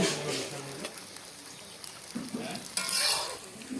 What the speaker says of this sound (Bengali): ধোকা ভাজা হচ্ছে